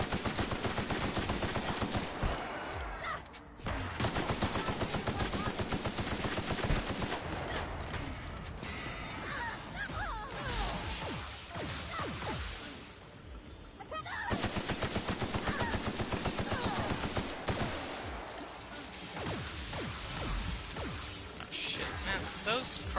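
Rapid automatic gunfire from a boss fight in The Outer Worlds, long bursts of shots with short pauses between them, loud and close.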